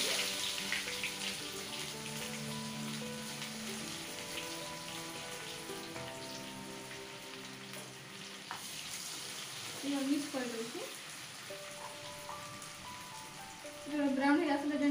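Chopped onion frying in a hot oiled pan, with a steady close sizzle and occasional stirring, while a voice talks over it.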